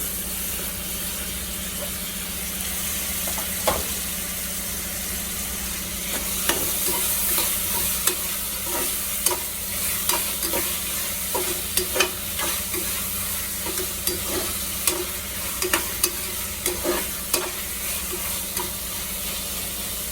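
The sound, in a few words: chopped tomatoes frying and being stirred in a pot for biryani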